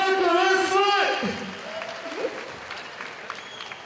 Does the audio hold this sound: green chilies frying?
no